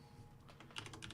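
Keys clatter on a computer keyboard in a quick, soft burst of taps that grows denser toward the end, close by and quiet, with no talking.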